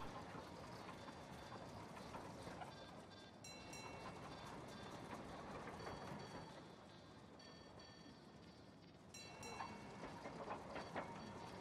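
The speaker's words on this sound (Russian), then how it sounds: "Железная дорога." Railway train sounds from the puzzle video game Gorogoa: a steady rolling rumble of rail cars with faint clickety-clack and light chiming tones, continuous throughout and moderately quiet, with no speech.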